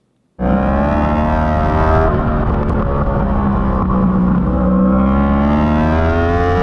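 A racing motorcycle at full speed during a race with about 28 bikes on the grid, its engine roaring loud and close after an abrupt start, holding high, steady revs with strong wind rush and no speech.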